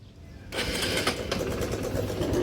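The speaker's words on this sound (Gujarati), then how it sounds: "ચાલુ કરી દે બાઈક હવે" A motorcycle engine fires up after a short quiet moment, then runs steadily at a loud, close idle with uneven pulses, as riders set off toward a Mahadev temple.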